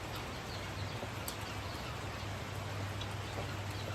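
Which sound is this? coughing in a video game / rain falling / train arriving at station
rain falling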